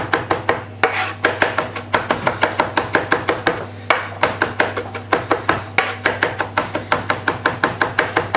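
A kitchen knife chops fresh parsley on a chopping board in quick, steady strokes, a crisp rhythmic tapping that runs without pause beneath a faint background hum.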